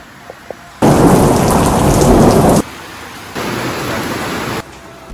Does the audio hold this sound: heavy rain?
yes